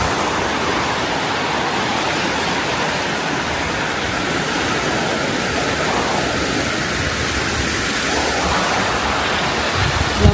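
Steady broadband wash of sea waves at high tide on Diniwid Beach, Boracay, a constant roaring surf close to the microphone with no distinct breaks, heard alone without voices.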